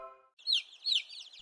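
A young bird peeps twice in quick high chirps, close by, after a brief low harmonic tone at the start.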